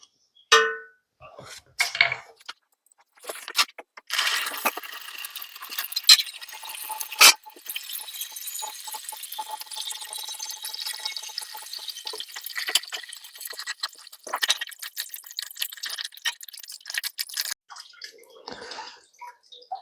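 Coolant gushing from a pulled hose on a Land Rover Defender TD5 into a bucket, a steady splashing liquid pour running most of the way with a few metallic clangs near the start.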